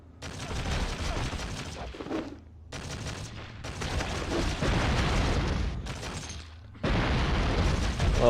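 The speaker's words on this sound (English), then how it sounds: "someone's throwing grenades, I think is what's happening" Grenade blasts and mechanical clatter from traps in a Fallout video game, arriving as dense, loud bursts of gunfire-like crackle with brief gaps of quiet between them, close and harsh.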